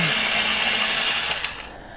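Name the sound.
pencil sharpener sharpening a pencil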